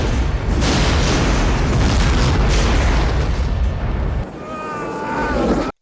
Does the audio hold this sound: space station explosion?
yes